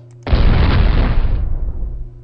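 A loud, close explosion sound effect bursts out abruptly with a dense roaring blast, then dies away into rumble over about two seconds.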